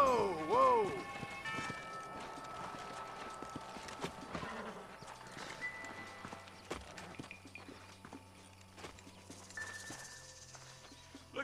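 Video game horse hooves in Red Dead Redemption clop at a walk, irregular and moderately close, with a brief horse whinny near the start over a quiet outdoor backdrop.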